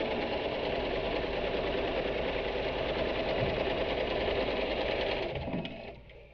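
Steady mechanical whir of a sewing machine stitching the seams of a fabric pencil case, running loud and continuous alone before slowing and stopping near the end.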